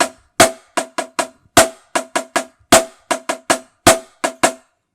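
Sharp, close drum strokes play a left-hand part of a six-note subdivision exercise, a steady pattern of crisp hits grouped with short gaps, loud and dry with no talking.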